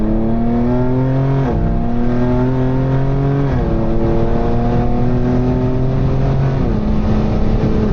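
A BMW M4 or M5 driving at night pulls hard, its engine note climbing loudly and dropping at each of three upshifts, heard up close from inside the car with no talk.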